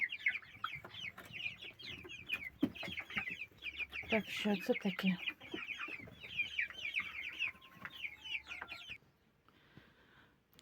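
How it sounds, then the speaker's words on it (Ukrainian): Chickens clucking and chirping close by, a busy chorus of short calls with a brief spoken question partway through before fading. "Дуже гарні курчата. Вони вже насісти сідають."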